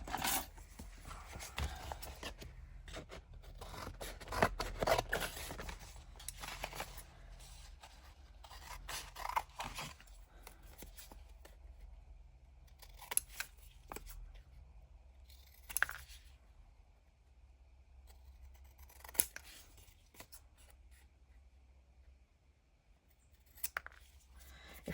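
Scissors snip through paper for a junk journal in a quiet room, with scattered soft cuts and rustles followed by a few isolated crisp snips spaced seconds apart.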